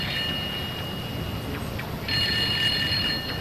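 A telephone rings in a cartoon: a shrill, repeating electronic trill sounds over a steady background hiss and grows louder partway through.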